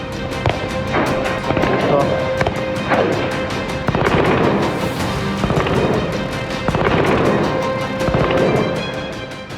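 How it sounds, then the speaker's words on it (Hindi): Rapid bursts of Taliban gunfire fired near Buddha statues crackle continuously at a steady loud level, with sharp repeated shots and some rolling booms, no voices. "जहां भगवान बुद्ध की मूर्तियों के करीब गोलियों की आवाज आप सुन सकते हैं।"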